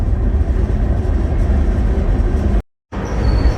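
Loud, steady rumble of a train riding the rails near Havre in North Dakota territory, a continuous rolling roar broken by a brief dropout near the end before it resumes.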